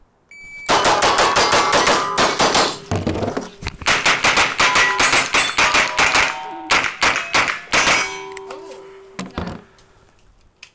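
Rapid pistol fire at a shooting range, likely a Glock or 2011-style handgun, with sharp loud cracks in quick bursts and short pauses, ringing steel targets pinging between strings.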